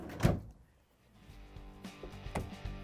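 A Frigidaire/Electrolux refrigerator door shuts with a loud close thump, followed by two softer door closings a second or so apart as the remaining doors are closed nearby.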